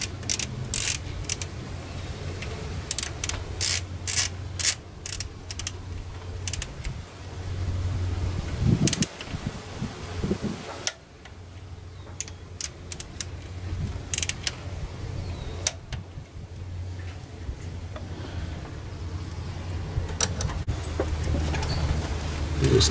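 Torque wrench tightening bolts on a 2004 Mitsubishi Montero during timing belt installation, set to 17 foot-pounds: repeated sharp mechanical clicks and ratcheting creaks close by, with a low steady hum underneath and no talking.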